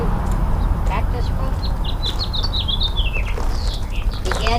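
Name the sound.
birds chirping around cactus fruit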